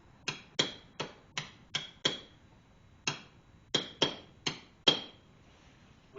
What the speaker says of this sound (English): this tool that I have made, that we put on top of the rivet. Tap several times,